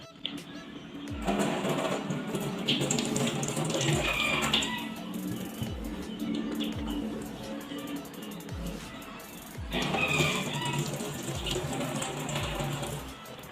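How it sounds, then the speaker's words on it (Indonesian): Tap water runs as hands are washed, in two steady splashing bursts separated by a quieter pause. "kita harus mencuci tangan terlebih dahulu menggunakan air mengalir"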